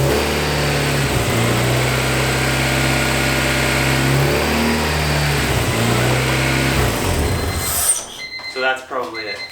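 Honda H22 engine swapped into a Civic running loud and close with a steady droning idle and small dips in pitch, then cutting off abruptly near the end, with voices afterward.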